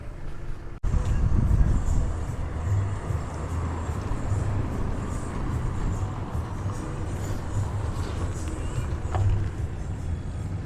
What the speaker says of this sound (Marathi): गाडी आता रिवर्स काढतो आहे गल्लीमधून